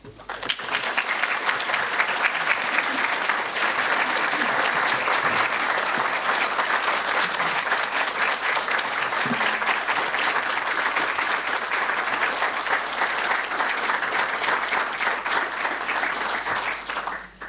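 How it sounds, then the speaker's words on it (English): A long, sustained round of applause from an audience, dense and steady clapping throughout before tapering off at the end. "I'd just like to echo the long round of applause"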